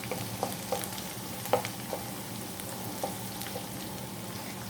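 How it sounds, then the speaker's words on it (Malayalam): Chopped onion sizzles steadily in hot oil with ginger and garlic for a mutton curry, a constant close hiss broken by a few faint clicks from stirring. "അരിഞ്ഞു വെച്ചിരിക്കുന്ന സബോളയും ചേർത്ത് കൊടുക്കാം. ഇനി ഇത് മൂപ്പിച്ചെടുക്കാം."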